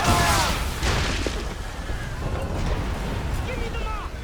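Cannon broadside fire from a sailing warship in Assassin's Creed III, heavy booms at the start over rushing water and wind, with shouted voices of the crew.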